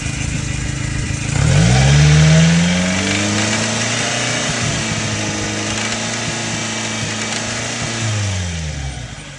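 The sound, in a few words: Subaru Sambar engine revving with possible rod knock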